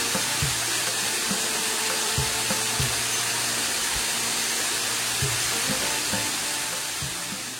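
A waterfall pours into a quiet pool at Curug Gedus in Tasikmalaya late in the afternoon, making a loud, steady rush of falling water with soft low thumps and splashes throughout.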